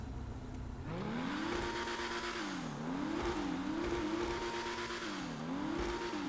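Ocelot Pariah sports car engine in GTA Online revving continuously, pitch climbing and falling in repeated surges with a steady loud drone and no talking.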